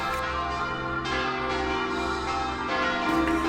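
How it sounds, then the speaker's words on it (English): Church bells peal continuously, overlapping tolls ringing out with long resonant hums, fairly distant and steady. "Scrooge was startled by the sound of church bells ringing out, the most glorious peals he had ever heard."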